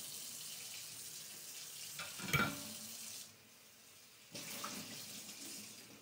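Tap water runs as a plate is rinsed, a soft steady hiss with a thump and splash partway through, then a brief lull before the flow resumes, faint and close.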